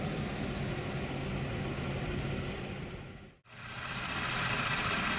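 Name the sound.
2017 Buick Enclave 3.6 liter V6 engine running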